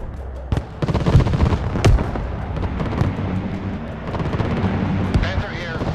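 Dense gunfire and artillery-like blasts from the Broken Arrow video game battlefield, sharp cracks and booms in a rumbling wash of combat noise, with a radio voice talking over it.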